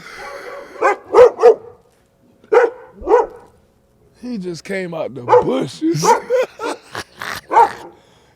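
A dog barks in short bursts, a few sharp barks and then a pause, while someone talks nearby between and over them.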